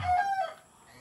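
A Texas rooster crows once, close and fairly loud, its call rising and holding before breaking off into quiet after about half a second.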